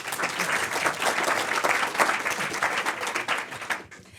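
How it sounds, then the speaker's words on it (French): Lively audience clapping at a startup pitch event, a dense burst of hands that carries on steadily and stops abruptly just before the end. "On applaudit."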